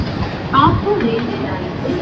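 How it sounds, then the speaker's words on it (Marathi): A Virar local train pulls in at a Mumbai suburban station, a continuous low rumble and rolling of the carriages filling the background while someone talks over it nearby. "ही आली आहे विरार लोकल"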